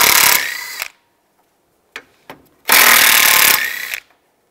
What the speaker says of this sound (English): Take these bolts out. Use a 10 millimeter socket.